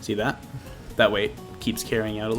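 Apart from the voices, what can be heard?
None of the usual background noises is heard.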